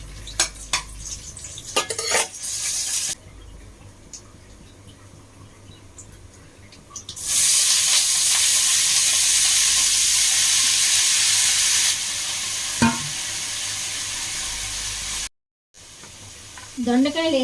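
Mustard and other tempering seeds, dried red chillies, green chillies and curry leaves frying in hot oil in a pan, with loud broadband sizzling that swells midway, a few clinks of a spoon against the pan, and a brief voice near the end.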